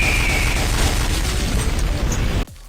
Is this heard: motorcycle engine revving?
no